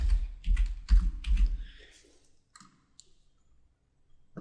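A computer mouse clicks several times in quick succession while an email label is being created. The sharp, close clicks bunch together early, then a few faint taps follow.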